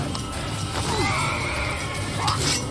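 A horse in the Assassin's Creed video game whinnies in a long, wavering neigh that rises and falls over a steady background of game ambience, with a light clip-clop of hooves.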